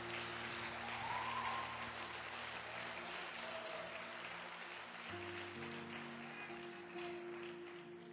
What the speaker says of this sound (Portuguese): Dá um aplauso de verdade, pelo amor de Deus.